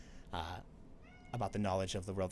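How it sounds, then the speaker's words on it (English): A pet cat meows up close in drawn-out, tonal cries, one early and a longer run later, with a person speaking briefly in between. "Sorry, that's my cat."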